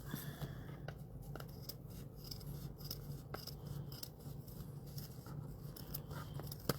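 Scissors cutting fabric pieces for doll shoes, a close series of crisp snips and rustles with faint background hum, no one talking.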